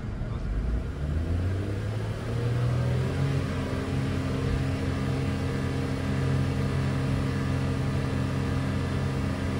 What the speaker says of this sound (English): Let me sit there and try to accelerate this thing.